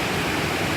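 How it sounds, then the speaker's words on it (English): A waterfall on the North Fork French Broad River roars as a steady, dense rush of falling water, loud and close, with no voices. "there's a second waterfall to the left, and that's on Shoal Creek."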